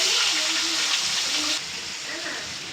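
Pangas fish fries in hot oil in a wok, giving a steady, close sizzling hiss that softens partway through.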